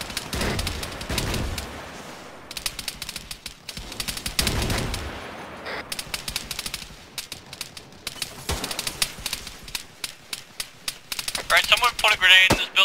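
Bursts of automatic gunfire crackle in an Arma 3 combat firefight, rapid clustered shots recurring throughout with sharp transients, some louder and closer, others thinner and distant, over a busy battlefield background.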